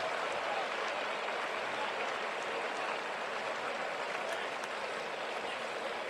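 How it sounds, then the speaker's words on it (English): Steady, broad crowd roar and applause fill a college football stadium, Boone Pickens Stadium, during a Kansas State vs Oklahoma State game as a player leaves the field, sustained and even throughout with no distinct peaks. "he'll get a nice ovation and have his teammates meet him as he comes off"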